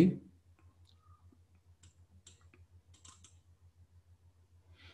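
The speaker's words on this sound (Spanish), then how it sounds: "Le damos clic en OK." A computer mouse clicks an OK button in mapping software, giving a faint, brief click near the start, followed by soft repeated ticking clicks under a steady low hum.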